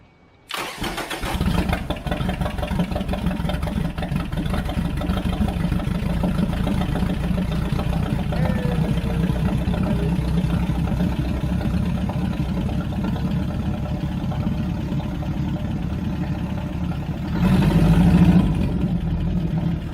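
A small outboard boat engine, run out of the water, sputters to life after the fuel bulb is pumped, then runs at a steady, loud idle, with a brief surge in intensity near the end.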